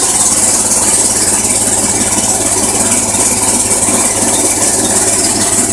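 A small 12-volt generator engine idles loudly and steadily up close, a constant mechanical drone with a light rattle throughout.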